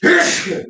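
A single sharp sneeze, close and loud, with a breathy burst trailing off quickly.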